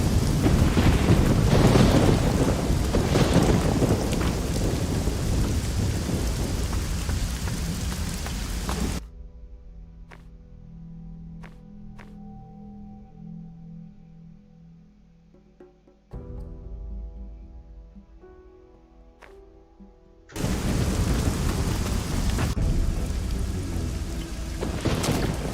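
Thunderstorm with heavy rain in the game Risen 2: a dense, loud roar of rain and rumbling thunder fills the opening stretch, drops to a quieter, sparser interlude, then surges back full and close at the end.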